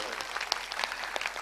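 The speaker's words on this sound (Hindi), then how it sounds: "एक बार ताली बजा दीजिए सब लोग मिलकर।" A mushaira audience at a poetry gathering in Motihari, Bihar claps together in a dense, even patter of many hands, steady and fairly distant for a brief moment.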